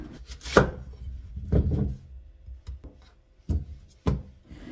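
A knife chops a large radish into big kkakdugi cubes on a cutting board, a handful of sharp, irregular thunks spaced apart with quiet pauses between, close and clear with no talking.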